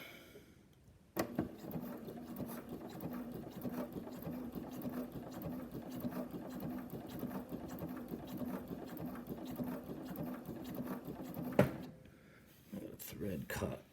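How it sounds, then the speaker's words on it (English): A sewing machine runs steadily for about ten seconds in reverse stitch on a jig setup, a continuous mechanical hum that stops abruptly, followed by a few faint handling knocks. "Then I'm going to do a reverse stitch,"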